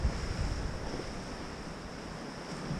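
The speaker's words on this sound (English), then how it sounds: "trying to get some minimalist shots of the waves crashing over the swimming pool" Stormy sea waves crash over the seawater swimming pool at Shoalstone in a steady wash of surf noise, with heavy gusting wind buffeting the microphone and no voices.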